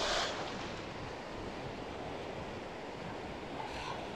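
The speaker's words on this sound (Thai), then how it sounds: "น้ำทะเลช่วงนี้คลื่นกำลังแรงครับ" Strong ocean surf breaks steadily on a public beach at Hua Hin in the early afternoon, a continuous loud wash of waves mixed with wind noise on the microphone and no voices.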